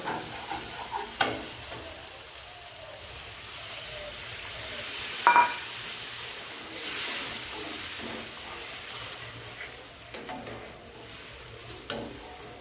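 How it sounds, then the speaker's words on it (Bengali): Water hits a frying spice paste in a pan, setting off a soft hiss and sizzle with a few sharp spatters and light stirring clinks, quiet and close with no talking. "মশলার থেকে তেল ছেড়ে দিয়েছে, এবার দিয়ে দেবো জল।"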